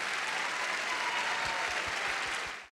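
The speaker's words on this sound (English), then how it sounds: "let's all give them a round of applause for their hard work" School staff and audience give a dense burst of applause for their principals, steady and full for over two seconds before it cuts off abruptly.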